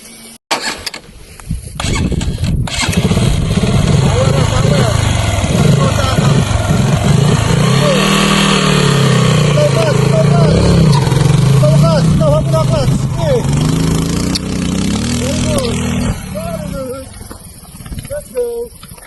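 An enduro motorcycle engine on a training ride runs steadily close by, revving up and down with rising and falling pitch over a constant rumble, while people talk over it throughout.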